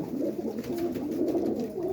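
Blue and black pigeons at a Sunday pigeon sale coo in a soft, throaty, continuous rumble close by, with no talk.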